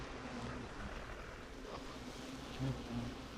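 A large bee nest hums with many bees buzzing nearby, a dense, steady, low drone that swells slightly near the end, heard outdoors without any talking.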